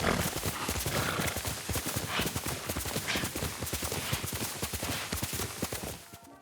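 Jin's horse trots in the video game Ghost of Tsushima, its hooves clip-clopping in a quick, steady rhythm throughout. The sound is close and loud before it fades out at the very end.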